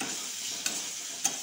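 Pointed gourd frying in a pan, a steady hiss of oil with two short, sharp scrapes as the pieces are stirred.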